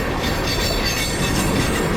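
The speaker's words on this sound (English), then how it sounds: "We miscalculated the speed of the train for the second time" A moving train rumbles steadily and loudly nearby for the whole stretch, a dense continuous rolling roar with faint rail noise and no voices.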